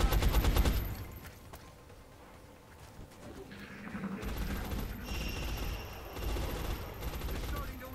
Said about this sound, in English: Give us a suppressing fire.